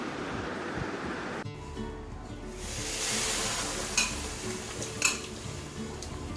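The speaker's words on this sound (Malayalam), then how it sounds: "ഇനി നമുക്കിത് ചട്ടുകം വെച്ച് തന്നെ നന്നായിട്ടൊന്ന് ഇളക്കി കൊടുക്കാം." A metal spatula stirs cooked jackfruit in an uruli over the stove for jackfruit jam, soft sizzling under scraping and shuffling, with two sharp clinks of the spatula against the vessel near the end, heard close up and without speech.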